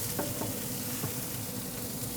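Onions frying in melted beef tallow on a grill, giving a steady, fairly loud crackling sizzle with a few soft stirring scrapes. No voices are heard.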